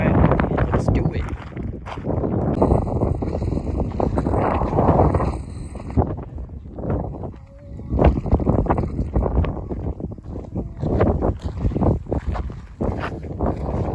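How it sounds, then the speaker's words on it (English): Strong gusty wind at Paint Mines Interpretive Park, Colorado, roars and buffets the microphone throughout, with rumbling surges and brief louder blasts. "It's so windy up here."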